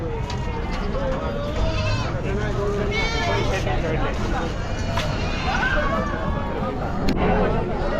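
Several goats bleat repeatedly amid a noisy crowd of people talking at a livestock market in Chakan, Maharashtra, the calls wavering and overlapping in a busy open-air bustle.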